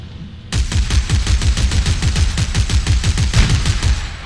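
Rapid sustained gunfire from the Colt in Dead Space 3, a steady loud burst of repeated shots starting abruptly and continuing without pause, close and dominant.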